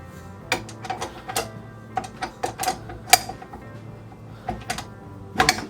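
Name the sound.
mixer with paddle mixing flour, salt and butter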